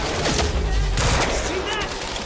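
Gunfire in the video game Quantum Break, a dense burst of shots rattling steadily through the whole stretch, loud and close, with shouted voices mixed in.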